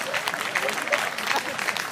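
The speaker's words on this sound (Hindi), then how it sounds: "तालियां कम हैं आपकी" A crowd claps steadily at a live Hindi comedy poetry show, moderately loud and continuous, with scattered individual claps standing out.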